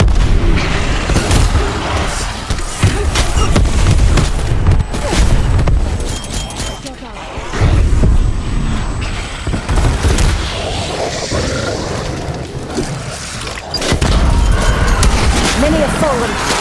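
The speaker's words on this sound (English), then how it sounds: "War machine firing for effect." War Machine grenade launcher firing in Call of Duty Cold War Zombies: loud, continuous booming blasts and explosions layered with game effects and music, with voices talking throughout.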